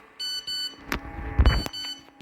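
A couple of short electronic beeps, like a message alert, followed by brief clicks and thumps.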